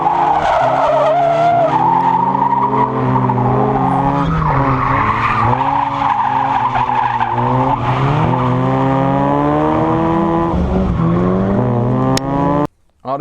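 Mazda RX8 drifting, with loud, sustained tire squeal and skidding over a revving rotary engine, close and continuous before a sudden cut near the end.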